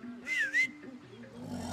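Brief two-note whistle in the video game Far Cry 6, a rising then falling tone followed by a second short note, heard clearly over a low ambient background.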